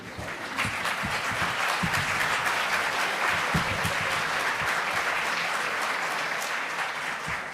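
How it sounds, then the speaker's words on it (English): An audience at a London School of Economics talk by the head of SYRIZA bursts into sustained, dense applause, steady and loud throughout with no voices over it. "I think he deserves a round of applause."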